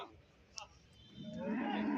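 Buffaloes stand at a cattle market, and a low, drawn-out bovine bellow swells over the last half-second on top of steady crowd and yard noise, with a brief sharp knock just before.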